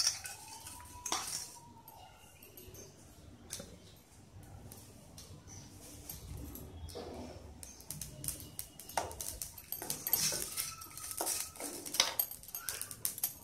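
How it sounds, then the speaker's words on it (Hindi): Whole spices, including cinnamon, black pepper and cumin, dry roasting in a pan, heard as irregular metallic clinks and scrapes of a utensil stirring against the pan, with soft quiet stretches between. "ये सारे मसाले का थोड़े से रोस्ट करेंगे थोड़ी देर के लिए"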